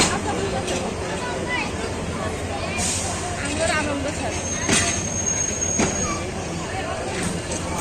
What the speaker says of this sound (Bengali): এই যে বলতে বলতে ট্রেন চলে আসছে না